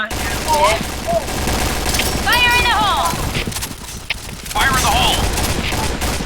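Gunfire in the online shooter Point Blank, a rapid, loud fusillade of shots sustained through most of the stretch, plays under excited voices talking.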